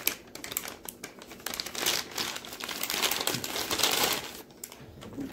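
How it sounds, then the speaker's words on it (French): The plastic packaging of a US military MRE ration bag is pulled open and handled, making loud, close crinkling and crackling with sharp crisp bursts throughout. "On ouvre le sac. On met ce qu'on a besoin de faire chauffer dedans."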